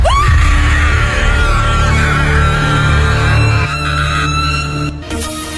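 A woman lets out a loud, drawn-out scream lasting several seconds, with a steady low rumble underneath.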